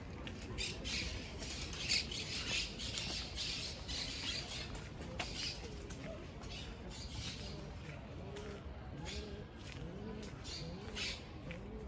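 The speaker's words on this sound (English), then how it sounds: "There are pigeons always making noises around here, man." Pigeons coo and squawk in a park in Barcelona, irregular calls nearby mixed with murmuring voices and faint ambient chatter throughout.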